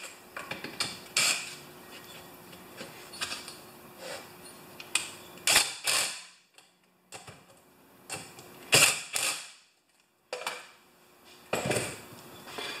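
A wrench loosening bolts on a Craftsman 6.5 HP Tecumseh engine: repeated close metallic clicks and ratcheting bursts with short pauses between turns, no talking.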